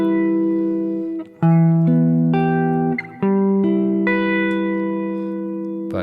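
Wide interval triad chords strummed on a guitar, several distinct chords struck one after another with brief gaps, each ringing out clearly and close before the next change.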